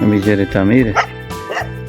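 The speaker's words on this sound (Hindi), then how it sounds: "कुत्ते भी भौंक रहे हैं।" Dogs barking and yipping nearby, several sharp barks overlapping someone speaking.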